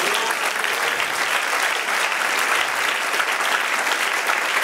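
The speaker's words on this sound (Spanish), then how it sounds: "denle un aplauso al Señor" A church congregation applauds during a Spanish-language sermon, steady dense clapping that fills the room, loud and continuous from start to finish.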